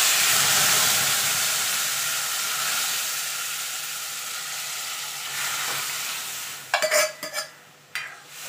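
Lentils are tipped into a hot five-spice tempering and sizzle steadily and loudly close by, a constant frying hiss that slowly settles, with a few sharp stirring clatters from the pan near the end.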